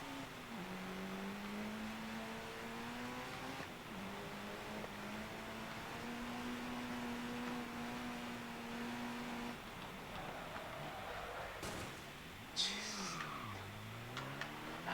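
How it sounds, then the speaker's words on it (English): A car in the rally video game Dirt Rally pulls away from a stop, its engine droning and rising while tires screech and squeal across a continuous stretch. "It's just tire screech. As soon as I start the car from a stop."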